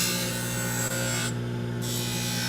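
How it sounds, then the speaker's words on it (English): An aluminum oxide wheel on a rotary tool bulk-trims an acrylic dental retainer, a steady whining motor with a loud, continuous rasping grind close by. "what I do with this aluminum oxide wheel is I just do bulk trimming"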